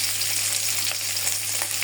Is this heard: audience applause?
no